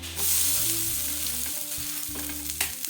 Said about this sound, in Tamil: இப்போ நான் வந்து விட்டுட்டு சுற்றி வர எண்ணெயும் விட்டுக்கிறேன்